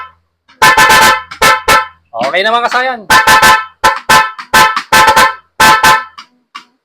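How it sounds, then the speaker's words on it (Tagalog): A loud, low-budget dual car horn honks in a rapid rhythmic pattern of short blasts, with a brief melodic sweeping tone in the middle and a voice speaking. "Para mas maganda yung kakalabasan na tunog ng ating busina"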